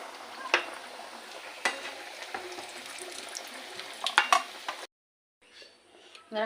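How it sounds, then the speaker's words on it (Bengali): Samosas deep-frying in oil give a continuous soft sizzle with a few sharp utensil clinks, then the sound cuts out briefly before returning faintly. "এইভাবে সবগুলো ভাজা করে নেবো"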